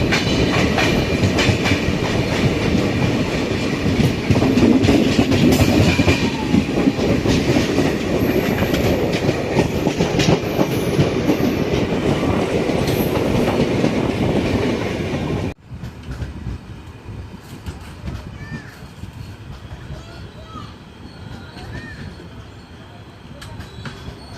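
The Puducherry-Yesvantpur Express runs on rails with a loud, steady rumble and rhythmic clickety-clack of wheels over joints, dropping abruptly to a quieter rattle about two-thirds through.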